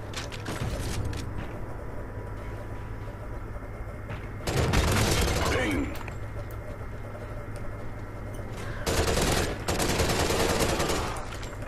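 Gunfire in the video game Call of Duty: Ghosts, a steady background of shooting broken by two louder bursts of rapid fire, with no talking.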